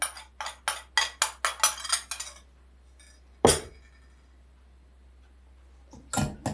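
A spoon clinks rapidly against the side of a glass or bowl while powdered sugar is stirred into milk: a quick burst of about ten taps, then a single louder knock and a few final clinks.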